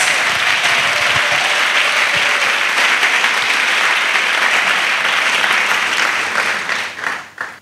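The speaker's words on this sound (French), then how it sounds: "Clappings." A church audience breaks into dense, sustained clapping that holds steady and loud for several seconds before thinning out and fading at the end.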